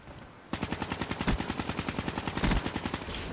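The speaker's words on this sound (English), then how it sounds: "That was some poor shooting, but we did get the kill." Rapid automatic gunfire from Call of Duty Black Ops 3 on Xbox bursts in after a brief quiet moment, a close, loud, evenly paced rattle of shots that runs to the end.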